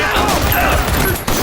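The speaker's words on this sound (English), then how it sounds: "A violent shootout begins." Gunfire in a violent shootout between criminals at a warehouse, a dense continuous barrage of shots with no gaps, loud and close throughout.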